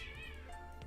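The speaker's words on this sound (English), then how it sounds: "Kitty commotion back there." Cat meowing in a brief commotion, a short stretched meow over a dense game background with steady music tones, fairly faint and quickly over.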